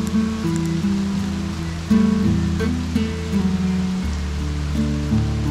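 Heavy monsoon rain pours steadily over forest on the Andharban trek, a constant close hiss of falling water, accompanied by background music.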